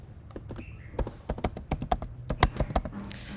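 Fingers type quickly on a computer keyboard, a close burst of crisp irregular key clicks that speeds into a dense flurry before trailing off, with no speech.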